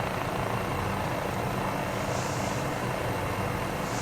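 An MD500E helicopter in Microsoft Flight Simulator 2020 gives a loud, constant rotor and turbine drone, a dense thrumming wash with a faint higher whine, steady throughout in cruise flight.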